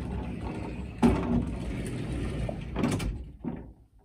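A sliding privacy door inside a 2013 Newmar Ventana RV rolls shut and latches, with a sharp knock near the start, a second clack of the lock later and faint rumbling between.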